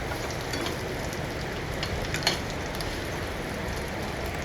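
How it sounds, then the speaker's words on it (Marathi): Diced potato being stir-fried in a pan for sabudana khichdi gives a steady, soft sizzle and crackle throughout, fairly quiet and without talk. "आपण तर परत एकदा परतून घेऊया बटाटा"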